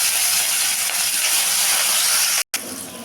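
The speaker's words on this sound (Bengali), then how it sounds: "তেলটা গরম হয়ে গেছে, এখন আমি মাছগুলো ভেজে নেব।" Pieces of katla fish frying in hot oil, a dense, loud hiss of sputtering oil heard close up and unbroken apart from a brief cut near the end.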